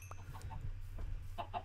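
Chickens in the Minecraft video game cluck in a few short bursts over a steady low game hum, with brief gaps between the calls.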